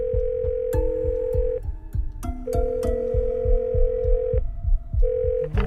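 A steady telephone ring tone on the line in a Hindi-dubbed action movie, repeating in long tones with short breaks, loud and clear with a faint clicking pulse beneath.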